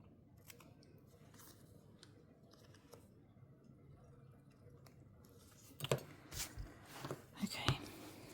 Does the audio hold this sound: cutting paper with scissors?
yes